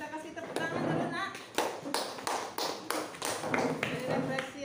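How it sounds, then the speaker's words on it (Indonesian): Classroom students clap together for a classmate after a reflection, a few loose rounds of sharp claps in bursts, fairly close and moderately loud, with a teacher's voice and murmuring around them. "Kita kasih tepuk tangan dulu nak."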